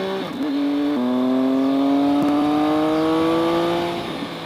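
A 2012 Triumph Speed Triple motorcycle engine accelerates hard and close, its steady rising harmonic whine climbing in pitch over about four seconds before easing off, with no talk.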